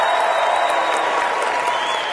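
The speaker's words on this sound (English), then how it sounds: "we need a riotous amount of applause" Studio audience applause at a game show taping, loud and sustained clapping from a large crowd filling the room evenly for a couple of seconds with no voices over it.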